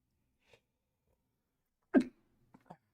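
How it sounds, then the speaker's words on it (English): One abrupt, fairly loud sneeze bursts out close to the microphone, followed by a couple of small breathy sounds in an otherwise quiet room. "I'm gonna sneeze."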